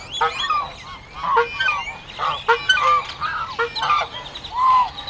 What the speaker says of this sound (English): Drive by that old mean goose and see how tough he is.